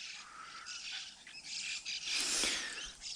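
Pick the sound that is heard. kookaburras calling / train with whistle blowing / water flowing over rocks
kookaburras calling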